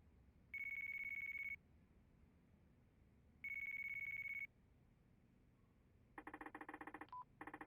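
A phone rings twice in Yakuza 4 Remastered, two sustained electronic tones a few seconds apart, then a rapid burst of keypad dialing beeps, all clear and alone against a quiet background.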